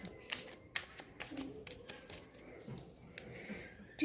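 A deck of universe oracle cards shuffled and handled by hand, with soft rapid riffling and light taps at close range, quiet throughout.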